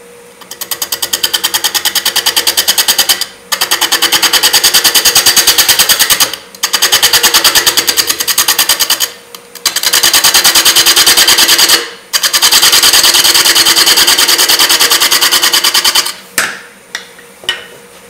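A lathe turning a maple burl as a tool cleans up its surface, giving a loud, rapid chattering buzz in long bursts that stop and start several times, with no voices.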